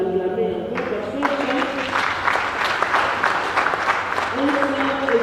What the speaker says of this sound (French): Je vous demande de l'acclamer encore